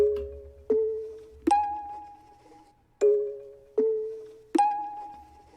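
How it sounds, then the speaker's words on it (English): Mallet notes strike in a three-step rising pattern, each hit ringing and decaying, the phrase repeating twice, clear and close with no talking. "I added in this little mallet 3-step thing that sounds like this."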